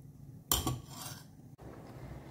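A spoon clinks and scrapes against a pot as chickpea curry is mixed in a home kitchen, with one sharp metallic knock at the start followed by softer scraping and a brief tap about a second later.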